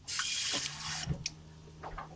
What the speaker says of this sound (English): I'm going to add a little bit more water to the mix.